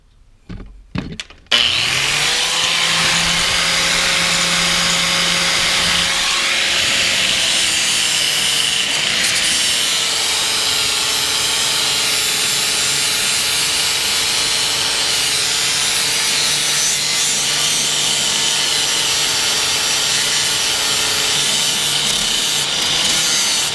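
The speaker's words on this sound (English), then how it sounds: "I also have to get a little bit of more of a grinding in here to get down to some fresh paint" A power grinder runs continuously against the body of a Toyota 4Runner, taking it down to fresh paint: a brief start-up, then a loud, steady abrasive whine that holds for over twenty seconds with slight shifts in pitch.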